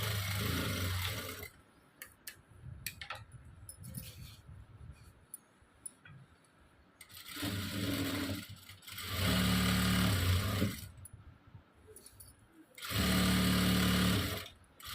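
Close bursts of a sewing machine stitching a prince cut blouse, one short run at the start and three longer steady runs later, separated by quiet handling noises and soft clicks.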